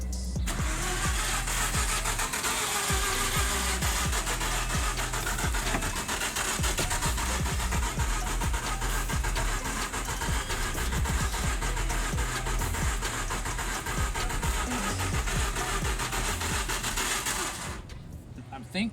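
A Mazda RX-8 rotary engine runs at a steady, loud drone for about eighteen seconds before cutting off near the end.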